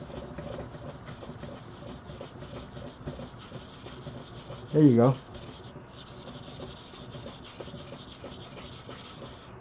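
A Sakon 210mm VG-10 gyuto, deliberately dulled beforehand, is drawn along a sharpening stone in a steady, near scraping rub with one short ringing metallic squeal midway; someone speaks briefly.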